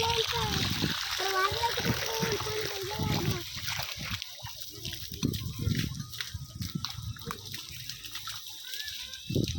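Water from a hose pipe splashes and sloshes onto a concrete slab in uneven bursts, close by, under frequent talk including a voice.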